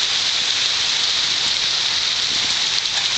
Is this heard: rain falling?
yes